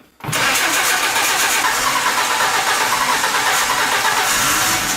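A worn, tired engine dropped into an old car cranks and catches, then settles into a loud, steady running roar close by with no talk over it.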